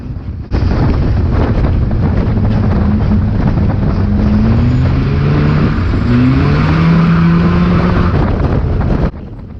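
Race cars roar past on a wet oval at Cowdenbeath Racewall, a loud sustained engine drone with rising and falling pitch sweeps as cars go by, heavy wind buffeting over the microphone throughout.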